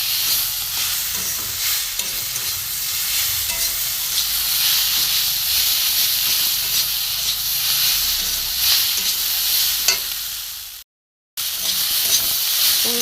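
Green pea curry masala sautéing in a pan, with a steady loud sizzle and hiss and occasional stirring scrapes running throughout, broken by one brief moment of silence near the end.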